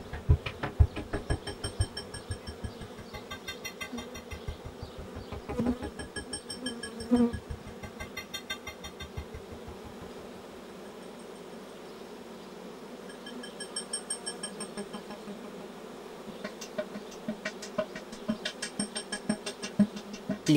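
Honey bees buzz around the hive in a steady, close drone of many wings, rising and falling slightly in loudness, with individual bees passing near, alone without talk.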